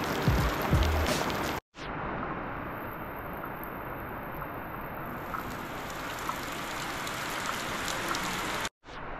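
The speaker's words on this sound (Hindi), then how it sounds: "सो गाइस बारिश तेज हो गई थी थोड़ी" Heavy rain pours in a dense, steady roar, close and loud, broken by two brief cutoffs; no voices are heard.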